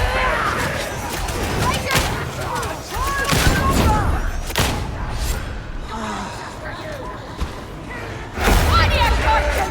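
Grenades explode in the video game Warhammer 40,000: Darktide, heavy booming bursts amid gunfire and combat noise, with voices talking throughout.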